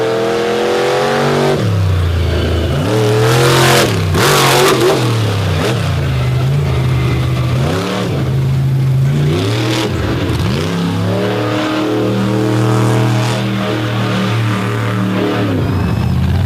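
Monster truck race machines at a freestyle event rev their engines loudly, with repeated rising and falling roars and sustained high-power engine drone, close and dominant with no talk.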